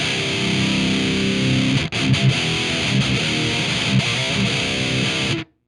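A distorted electric guitar, scooped mids through a pedal into a vintage speaker cab, plays loud chugging chords with a short gap, then rings out and stops abruptly.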